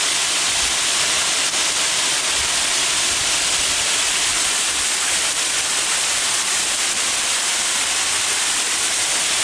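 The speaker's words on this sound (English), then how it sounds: "It's interesting how this falling water generates a wind." Water falls steadily at Buttermilk Falls in western Pennsylvania, a loud, unbroken broadband roar that fills the scene close by without a pause, with no voices.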